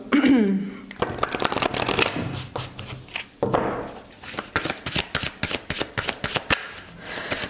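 Symbolon oracle cards being shuffled by hand, a quick papery riffle followed by a run of rapid flicking bursts that patter in a steady rhythm, close to the microphone.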